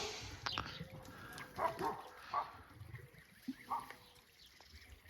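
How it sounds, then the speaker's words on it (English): Dogs bark far off in the distance near a Miyawaki forest plot, a few faint, scattered yips and barks breaking through a low outdoor background, with no talk. "They heard the dogs barking, but the dogs are somewhere else."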